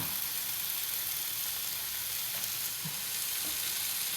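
Bacon sizzling and frying in a pan with no oil added, a steady dense crackle and hiss that stays loud and even throughout, with no voices.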